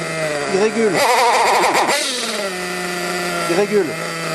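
A small nitro engine in an RC car, running lean, buzzes continuously at high revs, its pitch surging and dipping unevenly as the revs rise and fall.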